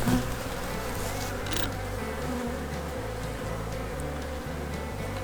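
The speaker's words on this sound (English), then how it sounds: "shake all them bees down to the bottom 2 boxes" Honey bees swarm and buzz inside a Kentucky beehive being inspected and prepared for winter, a dense, steady drone that holds at even loudness from start to finish with no talking.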